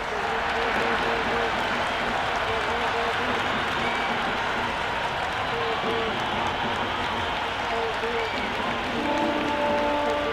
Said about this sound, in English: The crowd are loving every minute of this match.